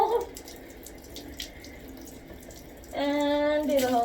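Water is poured over a head while hair is washed, first as a brief gush, then a quiet gap, then a louder steady splash of water near the ear.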